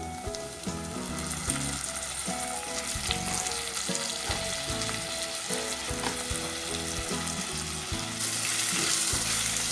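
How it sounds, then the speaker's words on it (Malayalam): Shallots and chopped tomato fry in a pan for a Kerala-style sardine chilli curry, with steady close sizzling and crackle, rhythmic stirring scrapes and clatter, the frying swelling louder toward the end. "ഇനി ഇതിലേക്ക് ഒരു വലിയ തക്കാളി അരിഞ്ഞത് ചേർത്ത് കൊടുക്കാം."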